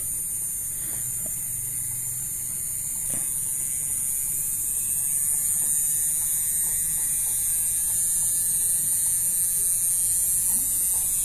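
A steady high-pitched whine of a small 130 DC motor spinning at about 3 to 5 volts, with faint hum and occasional light clicks, rising slightly in pitch over time.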